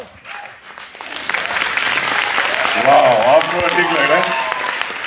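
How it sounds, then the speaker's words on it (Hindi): A crowd at an IMC business seminar breaks into loud, sustained applause that builds and holds, while a presenter talks over the clapping. "इतनी सी तालियों में मैं अगले लीडर को बुला लूं?"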